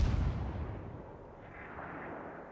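Ship guns fire in a naval video game, a deep booming blast that rolls away into a long fading rumble, loud at first and then dying down.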